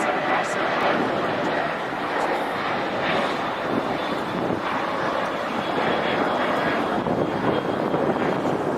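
An American Airlines Boeing 737 jet produces a steady, broad engine roar that holds at an even level throughout, with a person talking over it and light wind buffeting the microphone.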